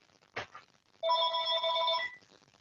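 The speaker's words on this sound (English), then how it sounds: "Excuse me, there's my phone." A telephone rings indoors during a roundtable talk: one knock-like thump, then a loud two-second electronic ring with steady tonal harmonics, fading to quiet.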